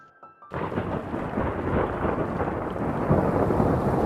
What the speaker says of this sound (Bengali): শেষমেশ বৃষ্টিটা শুরু হলো।